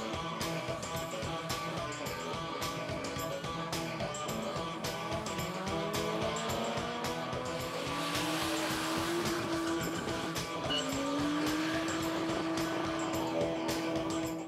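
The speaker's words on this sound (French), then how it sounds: "Ce week-end se déroulait à Juvincourt les championnats d'Europe de drift. C'est du sport mécanique, ça se pratique sur une piste, ça déménage. Il faut aimer le bruit et la fumée." Drift cars at the European Drift Championship in Juvincourt, engines roaring steadily from a distance with rising tyre squeals toward the end, a constant loud mechanical wash without speech.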